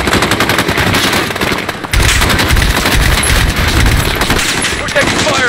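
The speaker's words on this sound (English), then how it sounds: "We're taking fire from the residence." Sustained automatic gunfire from a residence in Call of Duty: Modern Warfare, dense and loud throughout with rapid overlapping bursts, a brief lull just before two seconds, then continuous firing with occasional voices mixed in.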